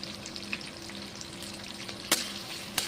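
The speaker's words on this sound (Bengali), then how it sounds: "পেঁয়াজ আর টমেটো দেখুন আমার ভাজা হয়ে গেছে একদম লাল করে।" Onions and tomatoes frying in a pan for an omelette curry, giving a steady close sizzle with a couple of sharp clicks or stirs near the end.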